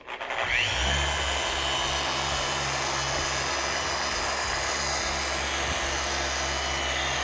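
A car polisher buffs paint using Meguiar's M200 polish on a yellow foam finishing pad, a loud, steady motor whine and hum that holds unbroken and close throughout.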